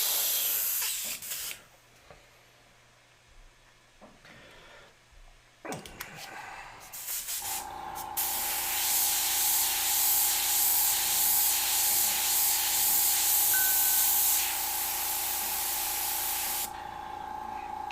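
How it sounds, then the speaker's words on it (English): An Eclipse airbrush sprays paint in short bursts, then settles into a long steady close hiss that cuts off near the end, with brief handling clatter before it. "I'm going to bring out another airbrush here. Bring out another Eclipse."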